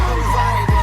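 A car drifting with tires skidding, a loud sustained engine and tire scrub close by, with a sudden swoop near the end.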